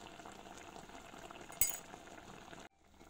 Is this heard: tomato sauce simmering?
yes